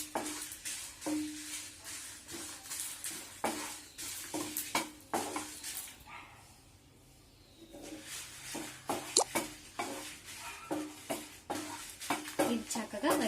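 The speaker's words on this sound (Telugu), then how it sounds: "ఎండుమిర్చి ఇది కూడా చక్కగా ఎర్రమొగ వచ్చేంత వరకు, మంచి స్మెల్ వచ్చేంత వరకు వేయించుకోవాలి" Dried red chillies roasting in a teaspoon of oil for rasam powder are stirred with a spoon, making close, irregular scraping and tapping against the pan with a soft sizzle and a brief lull midway.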